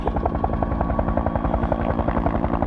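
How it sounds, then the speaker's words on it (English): A firefighting helicopter carrying a water bucket hovers over a lake during the 1994 Laguna Beach fire, its rotor thumping in a fast steady rhythm, loud and continuous. "what the firefighters are doing here with this helicopter is taking this bucket, which is now empty, and I think he is going to try and load it from this lake"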